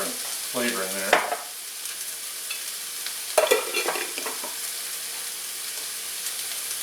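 Garlic and red jalapenos stir-fry in a hot pan for kung pao chicken, a steady sizzle with scraping stirring strokes near the start and middle, under brief quiet vocal sounds.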